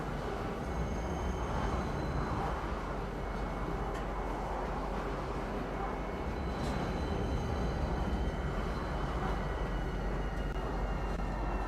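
A train in the Star Citizen game pulling into Pisa Spaceport, a steady low rumble and rolling hum with faint clicks, continuous and even throughout.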